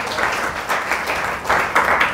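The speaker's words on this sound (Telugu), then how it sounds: "చప్పట్లు కూడా తెంపచ్చండి." A church congregation at a Sunday worship service bursts into applause, a dense wash of many hands clapping at steady loudness with a few swells throughout.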